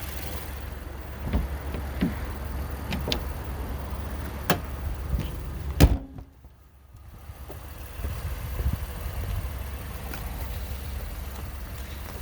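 A 2019 Honda Ridgeline RTL AWD idles steadily with a low engine hum, broken by a sharp thump around midway as the hood is shut, followed by a brief dip and the idle continuing.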